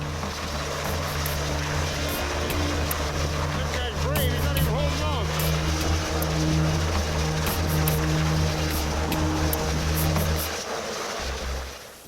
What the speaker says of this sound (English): Four of the 6 Monarch crewmen are now safely on board the Coast Guard helicopter.